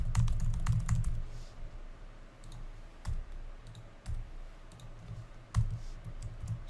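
Someone types steadily on a computer keyboard at close range, with quick clusters of soft key clicks separated by short pauses.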